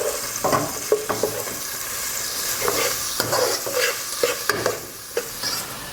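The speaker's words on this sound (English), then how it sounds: "we're gonna add our onions, also our peppers, and our cilantro. And we're gonna let this cook for about another minute" Onions, peppers and cilantro sizzle steadily in a hot pan for Dominican spaghetti sauce, with repeated sharp scraping stirs of a utensil punctuating the close, continuous frying hiss.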